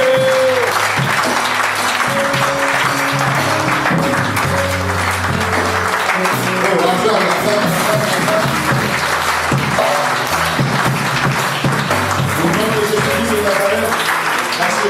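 A church congregation claps and cheers loudly in a sustained, dense wash of applause and voices, with tonal music or singing running underneath throughout.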